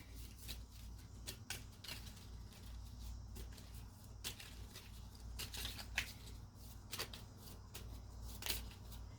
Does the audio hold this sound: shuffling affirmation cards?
yes